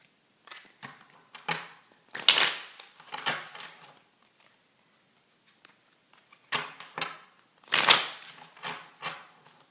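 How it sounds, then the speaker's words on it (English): A deck of cards being shuffled in quick riffling bursts, several close crackling flurries with brief pauses between, sharp and dry against a quiet room. "I think we got enough shuffling there."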